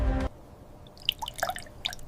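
Raw honey trickling through a gravity-fed filter in a honey processing factory, with a few sparse, soft drips and small wet plops after a brief louder sound at the start.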